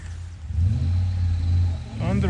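A car engine rumbles and revs as it drives along a difficult off-road mountain track in Georgia, a low steady drone close by that fades slightly near the end.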